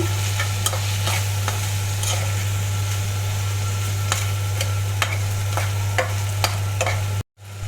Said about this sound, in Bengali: এখন আমি কয়েকটা কাঁচামরিচ আর পেঁয়াজ অ্যাড করবো এগুলো কোন ভালো করে ভেজে নেব